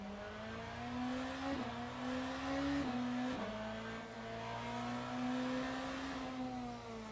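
A BMW race car engine in the Le Mans Ultimate sim racing game drones steadily at high revs, with several quick gear shifts briefly dipping the pitch before it climbs again. It is loud and close, with no talk.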